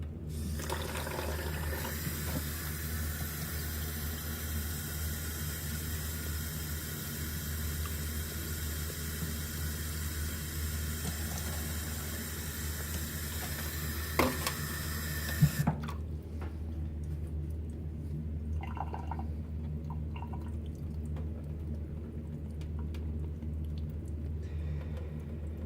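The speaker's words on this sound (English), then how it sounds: "put some water in there." Water runs steadily from a tap into a big bowl while saving dragon fruit seeds, a continuous even splashing flow lasting about fifteen seconds before cutting off, followed by faint handling noises.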